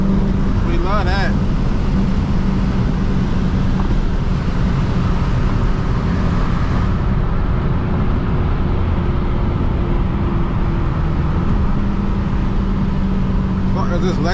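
Dodge SRT 392 with a Borla ATAK exhaust driving, a deep continuous engine rumble and exhaust drone heard from inside the car, loud and steady with a couple of brief higher revving swells.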